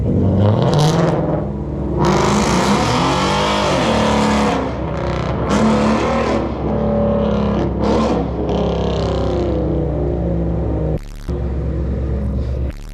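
A Ford Mustang engine revs hard and roars nearby as the car pulls away, loud and sustained with surging pitch, dropping briefly near the end.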